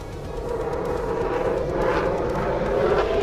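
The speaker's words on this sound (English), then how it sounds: "the Eurofighter Typhoon rolls inverted and pulls into a crushing high-G dive, cutting through altitude like a blade." A Eurofighter Typhoon jet fighter in a high-G dive gives a sustained, loud, broadband roar. The roar swells slightly as it goes on, with no voices over it.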